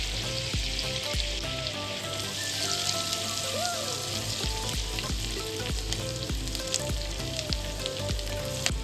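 Chopped garlic frying in melted butter for Mexican rice, a dense crackling sizzle with repeated utensil taps and stirring clinks, close and continuous over a low background hum.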